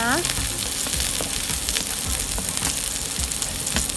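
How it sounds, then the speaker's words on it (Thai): Garlic stir-fries in hot oil in a wok for crispy pork with kale, a loud, dense crackling sizzle broken by scraping stirs and a short clink at the start, with no voices. "พอน้ำมันเริ่มร้อนเราก็ใส่กระเทียมลงไปผัดผัดให้หอมเลยนะคะ"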